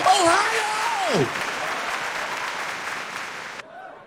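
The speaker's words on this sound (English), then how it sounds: "Oh, I didn't know you would ever clap for that." A stand-up comedy audience claps loudly from the start, a broad steady patter that thins gradually toward the end; the comedian's voice rises and falls over the first second before the clapping takes over.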